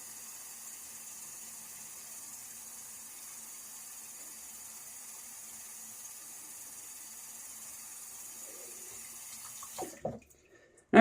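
Water running from a sink tap as a faint, steady hiss that continues evenly for about ten seconds, then a few brief clatters and splashes as it stops, with no talk.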